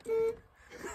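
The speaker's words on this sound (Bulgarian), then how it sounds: "Имаме бибитка!" A 1996 Fiat Cinquecento's horn gives one steady beep lasting about a quarter second. A short rustle follows, then faint voices.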